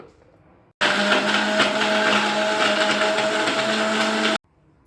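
A kitchen blender whirs a chikoo milkshake with nutmeg and cardamom, starting abruptly, running at a steady loud drone for several seconds, then cutting off sharply.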